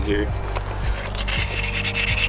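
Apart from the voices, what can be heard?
sanding a wheel with 220 grit sandpaper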